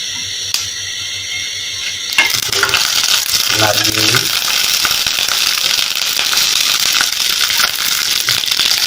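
Dry red chilies and whole cumin seeds hit hot oil for Bengali shorshe ilish, setting off a loud, steady, crackling sizzle after a quieter start, with a few brief stirring scrapes and pops through it.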